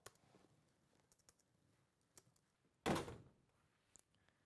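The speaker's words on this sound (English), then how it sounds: "Taylor, shut the door" A door shuts with a single loud thud midway, preceded and followed by quiet indoor rustles and light clicks.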